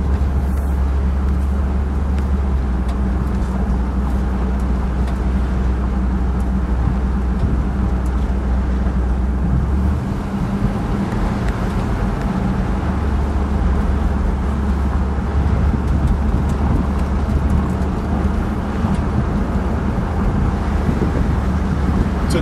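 Red 1959 Edsel Corsair convertible with the top up cruising on a highway, a continuous loud low engine and road roar with wind noise throughout, a brief deeper shift midway, no talking.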